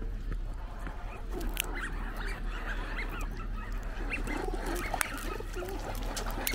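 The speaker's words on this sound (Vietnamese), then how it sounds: "mấy con chim nó quýnh lộn với nhau" Geese, pigeons and ducks squabble together outdoors beneath cherry blossoms, honking and flapping in scattered bursts over a steady low rumble of background noise.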